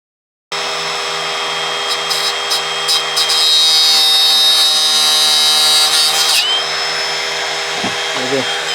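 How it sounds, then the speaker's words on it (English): A cutting wheel slices through the rear sway bar of a 1996-2000 Honda Civic EK coupe with a loud, continuous high-pitched grinding whine that shifts pitch near the end, heard up close, followed by a few clunks as it stops. "I'm coming back with it with my cutting wheel. I'm just going to give it a nice cut"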